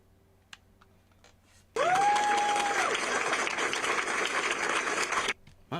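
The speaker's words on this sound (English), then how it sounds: "Why are they clapping?" After a quiet start with a single click, a crowd abruptly breaks into loud, steady clapping with a brief rising tone over it, lasting about three and a half seconds before cutting off sharply.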